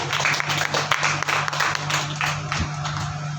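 Small children at a summer camp clap loudly together, a close, uneven patter of many hands with distinct individual claps standing out in quick rhythm.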